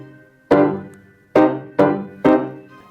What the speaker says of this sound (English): in this string quartet, we find a lot of transitions from the dominant to the tonic